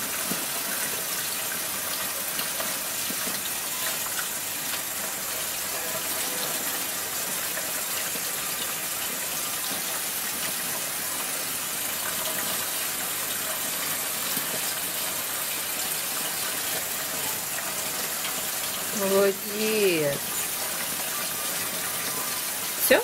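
A tap runs for a child washing hands at a sink, a steady gushing stream of water throughout, with a brief voice near the end.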